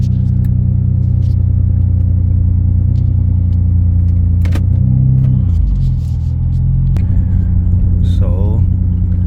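A car engine idling steadily after its cold air intake was cleaned, a loud continuous low rumble close by that dips briefly in pitch partway through, with a few light clicks over it.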